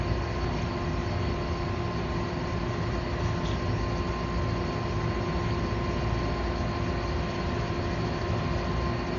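A gas forge burner roars steadily at about 1800 degrees while a sword is being forged, a loud, constant, unbroken rushing drone with a faint tonal whine riding on top and no talk.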